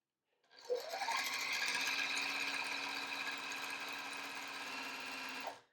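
A sewing machine stitches quilt pieces in one continuous run of several seconds, a close, even mechanical whir with rapid needle chatter that starts up cleanly and stops abruptly.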